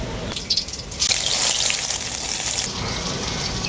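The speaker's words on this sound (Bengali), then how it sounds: "তো সয়া বড়িটা এখন ভেজে নেব আমি" Soaked soya chunks, drained of water, hit hot oil with a steady, loud frying hiss that surges and stays dense throughout, with bursts of bubbling spatter.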